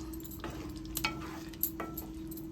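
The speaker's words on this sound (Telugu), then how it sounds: "గరం మసాలా వేసుకుందాము ఇది కూడా కలుపుకొని ఒక్క నిమిషం ఉడికించుకుందాము" A spoon scrapes and stirs through simmering drumstick and cashew curry after garam masala is added, soft clinks and wet scraping over a steady low sizzle, close up with no talking.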